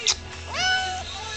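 A house cat gives a single drawn-out meow, close and clear, rising then falling after a brief sharp sound at the start.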